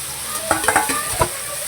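Onion dropped into hot oil sizzles steadily while a spatula stirs it in a few quick scraping strokes, close and clear.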